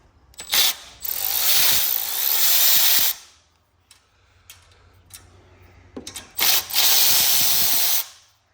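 A ratchet backs out 10 mm screws on a Kawasaki FR691 engine of a Toro TimeCutter 50-inch mower, heard up close as two long bursts of rapid clicking separated by a pause with a few short clicks.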